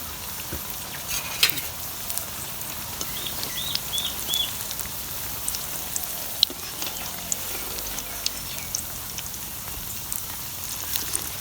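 Masala vada deep frying in hot oil, a steady dense crackling sizzle with faint bubbling, close and continuous with no voices.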